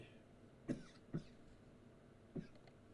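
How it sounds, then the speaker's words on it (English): Three short, dry coughs spaced unevenly, close by and fairly quiet, with a hushed background. "Got a little cough of my own brewing."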